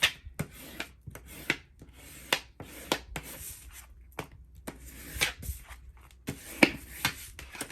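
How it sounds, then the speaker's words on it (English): Score tape on a handmade Alice in Wonderland junk journal being burnished down by hand, a series of short, dry rubbing strokes in irregular rhythm, close and fairly quiet with brief pauses between passes. "Now we're going to just burnish it down really well."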